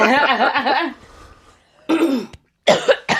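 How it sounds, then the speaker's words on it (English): Someone laughs and coughs at once, harsh throaty hacks mixed with chuckles in close bursts separated by brief silences. "It's the cough-laugh combo."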